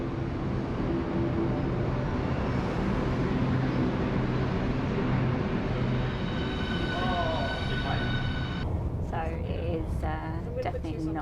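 A train in London rumbles steadily with a low, continuous roar and faint squealing tones near the end, heard from a platform with a person talking over it.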